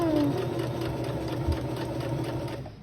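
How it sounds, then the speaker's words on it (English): A sewing machine runs steadily while stitching a fabric scrunchie tube, including a backstitch, giving a close, continuous mechanical whir with rapid rhythmic needle pulses that stays loud throughout before easing off at the end, with no talking. "just go ahead and start sewing. But also I'm going to do a back stitch"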